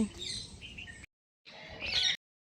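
Peacock calls in two loud bursts with a short silent gap between them, a harsh, nasal, squawking cry heard close by.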